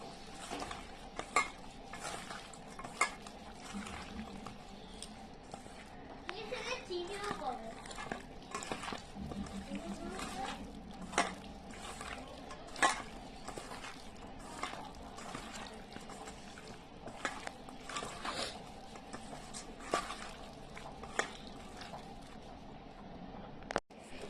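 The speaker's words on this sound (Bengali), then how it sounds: "তো এটার সাথে আমি পুরো মশলাটা দিয়ে মাখিয়ে নেবো। মাছটাকে আমি পুরো মাখাবো।" Morola fish mixed by hand with spice paste for spicy paturi, a long run of soft squelching and stirring broken by scattered clinks against the bowl, with talk in the background.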